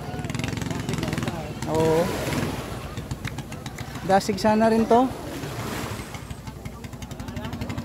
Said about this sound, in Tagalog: palyado ang makina mga bro. Parang nalagyan ng tubig yung gasolina.